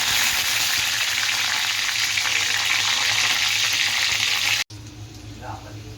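Curry leaves dropped into hot oil with crushed garlic give a loud, dense crackling sizzle that holds steady, then cuts off abruptly and settles into a quieter, softer fry.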